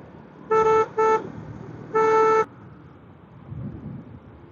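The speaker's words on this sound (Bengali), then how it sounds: "আমার হর্নের হর্নটা হচ্ছে পপ হর্ন" A motorbike's pop horn gives three short honks, two quick bursts and then a longer one, over low road and engine rumble; the horn sounds fairly thin and not very loud.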